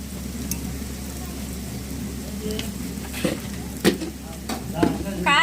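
Chicken bone curry being stirred in a pan just after chili powder goes in, a steady sizzle with scraping spoon strokes and a few louder clinks near the end, no talking.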